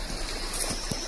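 Small mountain stream in Pokhari Khola flowing steadily, a soft continuous broadband wash with faint low bubbling, close and moderate in level, no voices.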